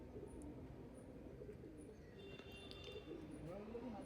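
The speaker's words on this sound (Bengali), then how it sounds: "তারপরে কবুতরগুলো উঠা দিচ্ছে।" Pigeons coo faintly at dusk in a loft yard, a soft low murmur of calls with a few brief chirps over steady background noise, no clear wing flapping evident.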